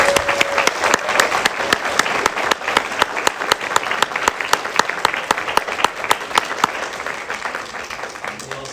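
Sustained applause for college staff at a board of regents meeting, a dense, even wash of many hands clapping, close and fairly loud throughout.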